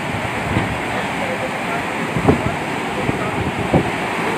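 Canal water rushes through an outlet after wooden boards are lifted out of the way, a steady broad roar close to the microphone, with wind buffeting and a few voices faintly underneath.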